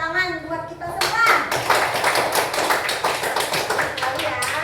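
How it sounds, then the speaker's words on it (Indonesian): Children in a primary school class clap their hands together in a quick, rhythmic burst of patterned taps, led in unison, after a teacher's voice speaks at the start. "Tepuk tangan buat kita semua."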